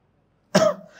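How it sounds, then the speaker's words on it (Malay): A woman gives a single sharp, close cough that fades into a brief rasping tail, heard alone after silence. "Teruknya batuk kak."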